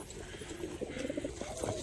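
Pigeons kept for sale in a home loft give soft, repeated cooing calls at close range, with rustling and low background noise throughout.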